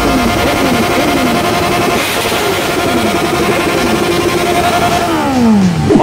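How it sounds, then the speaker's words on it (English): A loud, close superbike engine revving at a college tech festival, rising and falling in pitch with repeated throttle sweeps and a final climbing rev, amid crowd noise. "Or maybe even a super bike in that case."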